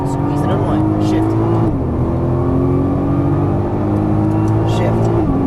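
A Nissan GT-R engine drones loudly and steadily on the Las Vegas Motor Speedway track, its pitch rising and then dropping with each shift, with constant road and wind roar underneath and no speech over it.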